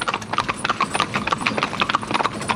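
Horses' hooves clip-clop steadily as they pull a carriage in tandem, a close, brisk run of overlapping hoofbeats on hard ground, with a voice faintly audible underneath.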